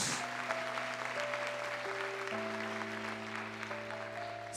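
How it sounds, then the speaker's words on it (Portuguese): A church congregation claps for the Lord in steady, continuous applause, with sustained keyboard or organ chords holding underneath throughout. "Levante sua mão, aplauda ao Senhor"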